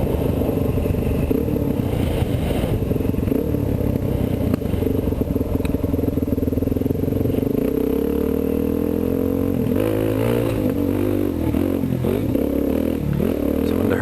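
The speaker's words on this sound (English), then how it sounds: "I wanted to burn up and do this little hill, show my buddy Scott this little hill" A Kawasaki KLX dirt bike climbs a steep hill, its engine droning loudly and continuously up close, with rising revs and rattling clatter toward the end.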